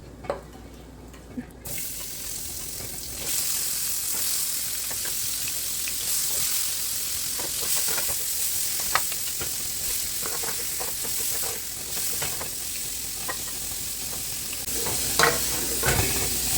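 Food in a pot with garlic powder and smoked paprika, a steady sizzle with stirring scrapes and occasional clinks, continuous and fairly close, no talk.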